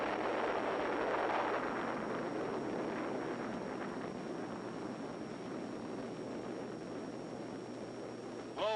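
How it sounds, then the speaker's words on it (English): A big bomb test explosion in the Nevada desert in 1953, heard as a long, broad roaring rumble that swells early and slowly fades, steady and distant-sounding with no voices. "Big bomb."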